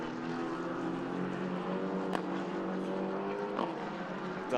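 A Kyle Moore Cars race car engine drones at an Irish Championship circuit round, a steady, fairly distant, buzzing tone that holds throughout, with brief sharp bursts near the middle and end.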